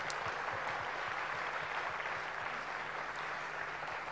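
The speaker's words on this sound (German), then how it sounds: "Und ihr kriegt euren verdienten Applaus noch einmal." Steady applause at an award ceremony for a national roofing and plumbing championship, a dense, even wash of clapping heard at a distance for about four seconds with a faint low rhythmic thump beneath.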